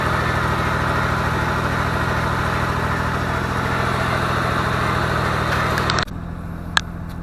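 A 1986 Ford Ranger STX 4x4 pickup engine idles at a steady, elevated drone for several seconds, then cuts off abruptly, leaving faint background noise and a brief click.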